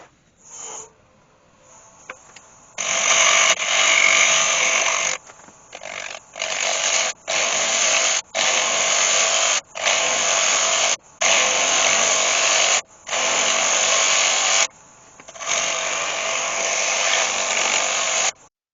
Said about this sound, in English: just going to go in with a parting off tool just to mark the rim there, and then I'm going to put a curve on the rim